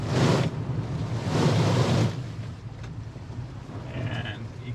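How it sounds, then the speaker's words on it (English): A 2021 Jeep Wrangler Rubicon 4xe hits a puddle at about 20 mph, throwing up two loud rushing splashes of water heard close by, followed by quieter wind and driving noise. "let's see if we can hit 20 miles an hour and hit this puddle"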